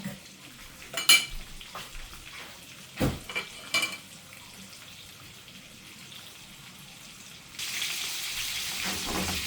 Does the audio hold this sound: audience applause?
no